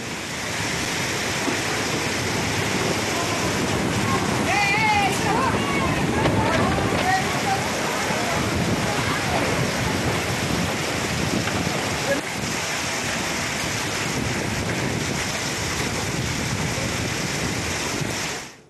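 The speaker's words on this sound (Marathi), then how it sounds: "सुसाट वाऱ्यासह मोठ्या प्रमाणात अवकाळी पाऊस झालाय" Heavy unseasonal rain lashed by strong wind in the Navgan Rajuri area of Beed, a dense continuous roar of rain and gusts that stays loud and steady for the whole stretch.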